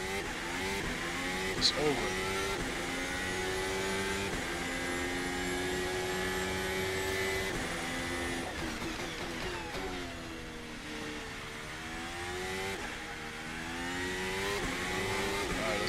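Turbocharged race car engine in a racing video game drones and climbs through revs with shifting pitch, continuous and loud, while someone talks over it.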